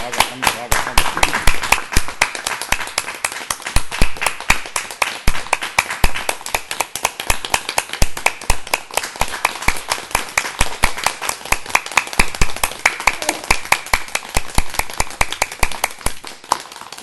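A class at a Hindi religious lesson clapping hands in welcome, a long run of sharp, rapid claps in a steady rhythm, with people chanting and talking over it.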